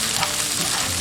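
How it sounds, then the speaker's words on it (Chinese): Pork strips stir-frying in oil in a wok, a dense, close, continuous sizzle with no pauses. "锅中倒少许食用油，加入肉丝炒至变色"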